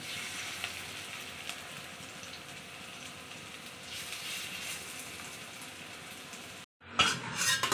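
Steady, close sizzling of methi (fenugreek) fritters frying in hot oil, with a brief pause and some utensil clatter near the end.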